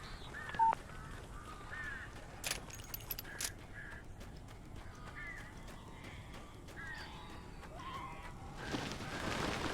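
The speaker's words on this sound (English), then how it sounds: "These birds are weird." Birds caw repeatedly in the video game Alan Wake. The harsh calls are faint and scattered across a quiet ambient background, with occasional metallic clinks and no talk.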